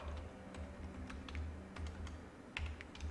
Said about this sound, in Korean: 최우수 이렇게 입력하셔도 되고요